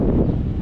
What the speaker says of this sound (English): Also, it is particularly windy today.